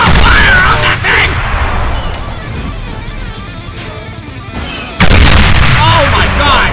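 Gunfire in a Garry's Mod Star Wars roleplay game, loud continuous blaster and weapon fire with booming bursts, a heavy volley kicking in near the end, with voices shouting over it.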